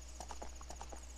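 A horse in The Legend of Zelda: Ocarina of Time 3D gallops with a quick, even clip-clop of hooves, about eight beats in a second, over a low steady hum.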